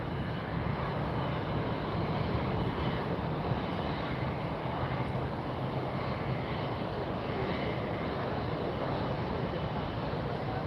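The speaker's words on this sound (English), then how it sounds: "there's a Air Canada 787 Dreamliner taxiing" An Air Canada 787 Dreamliner taxis at Fort Lauderdale airport, a steady, broad jet engine rumble and whine holding level throughout, loud and continuous with no talk over it.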